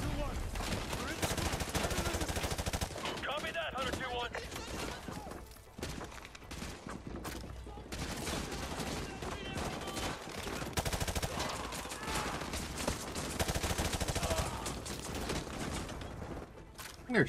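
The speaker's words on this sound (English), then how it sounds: "They're shooting at me through walls" Dense, continuous gunfire from the Call of Duty Modern Warfare 2 Campaign Remastered, with rapid automatic bursts and impacts crowding the whole stretch at moderate loudness, and a player's voice now and then beneath the shooting.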